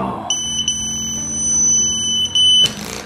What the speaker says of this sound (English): Turn the alarm off. I can't take it anymore.